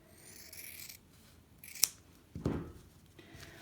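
Scissors snip through the fabric backing of a pumpkin placemat in a few close, crisp cuts with quiet pauses between.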